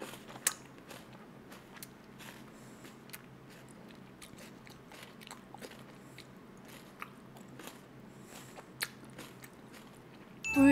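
Crisp crunching and cracking as someone bites and chews a candied cherry tomato tanghulu with a hard sugar shell, a steady run of sharp snaps close to the mic over a quiet background.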